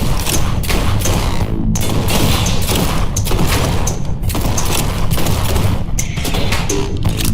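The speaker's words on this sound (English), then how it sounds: "Let's try the sniper rifle." Sniper rifle fire in the PC video game G2 Fighter, loud dense gunfire with heavy booms and thuds repeating throughout over a busy game soundtrack.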